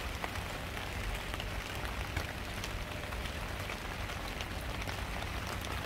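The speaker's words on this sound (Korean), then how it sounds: "잠시 비가 소강 상태여서 올라왔는데 비가 많이 내리네요." Heavy autumn rain falls steadily outdoors on a rooftop garden, a dense, even hiss of drops with no pauses, moderately loud and close.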